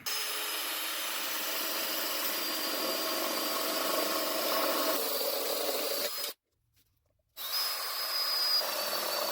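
A 5/8 drill bit bores into material for a new oil heater base, a steady close power-drill whine running for about six seconds, stopping briefly, then resuming.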